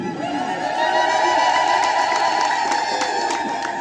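A church congregation at a Hosanna celebration claps and cheers in praise, a steady dense crowd roar with shouting voices and sharp claps, loud and continuous throughout.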